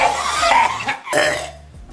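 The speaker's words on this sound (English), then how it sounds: "leading to frequent coughing fits" A short burst of coughing, a few harsh throat-driven coughs close to the microphone with a brief pause between them.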